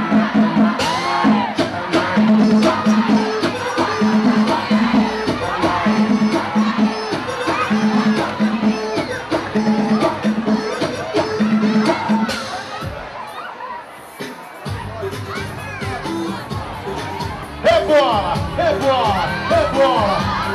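A large crowd at an Arraiá da Roça festival party shouts, whoops and cheers loudly over amplified music while an MC calls out through the noise, the roar easing briefly before surging again.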